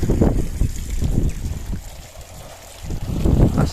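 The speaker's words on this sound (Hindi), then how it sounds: "हवा आज जो है ना काफ़ी दिनों बाद बहुत तेज़ है" Strong wind gusting outdoors in a village, buffeting the microphone in loud rumbling bursts that ease briefly midway and then surge again.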